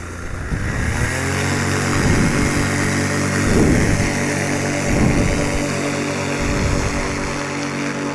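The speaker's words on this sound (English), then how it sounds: "I just took my prop tape off, and honestly, my motor makes more thrust." A paramotor engine with its propeller, prop tape removed, runs as a loud, steady buzzing drone with slight surges in pitch, heard alone in flight over the Nevada wilderness.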